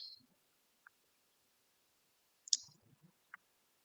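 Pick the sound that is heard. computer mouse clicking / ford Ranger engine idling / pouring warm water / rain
computer mouse clicking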